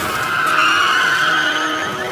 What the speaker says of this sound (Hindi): दरअसल हियोन और ली गाड़ी लेकर सही समय पर वहां पहुंच गए थे।